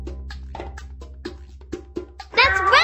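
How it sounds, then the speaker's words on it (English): A single short cat meow rings out at the end of a cartoon farm animal game, following a string of soft rhythmic plucked tones. "It's a cat!"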